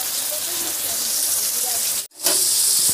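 Loud, continuous hiss and sizzle of potato and taro frying in hot oil, broken by a brief drop in sound before the sizzle resumes even louder.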